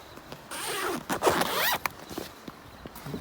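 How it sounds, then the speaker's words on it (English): A zipper on a KING 4WD canvas door upper being pulled open in a few quick rasping strokes, close and crisp, with faint handling noise and no talking. "Zipper works very nice though."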